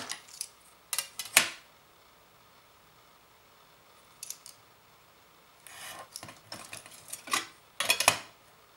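Scissors snipping the corners of a paper card for a folded accordion card, a few close, crisp cuts in short separate clusters over quiet room tone, with no talking.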